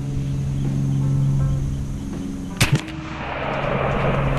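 A single sharp, loud shot from an AEA Zeus .72 caliber air rifle at 50 yards, firing over a steady background hum and followed by a brief echoing tail.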